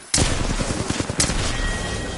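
Video game gunfire in a rapid, dense burst, with two sharp, loud onsets and a sustained rattling clatter between them, heard with no talk over it.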